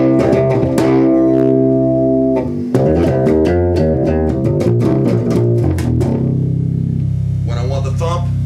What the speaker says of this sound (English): Can't get a better bass thump than this.